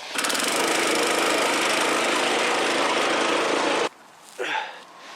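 A turf cutter cuts and lifts turf, its engine roaring loud and steady for about four seconds before cutting off abruptly, followed by a short muffled thump.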